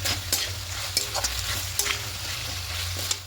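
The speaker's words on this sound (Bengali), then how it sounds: "এবার হালকা একটু কষিয়ে নেব এইভাবে করে, একটু এরকম একটু শুকনো শুকনো হবে।" Cauliflower and potato pieces with poppy seeds are sautéed dry in a pan, a soft steady sizzle broken by the sharp scrapes and knocks of a spatula stirring close up.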